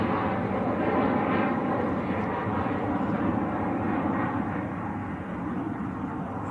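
A Ryanair airliner departs Manchester Airport bound for Lanzarote, its engines a loud, steady broadband roar that holds throughout with only a slight dip near the end.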